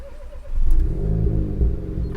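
A Renault Sport GT's engine is started with a start-stop button, a brief cranking whir rising into a deep rumbling idle that holds steady, close and fairly loud.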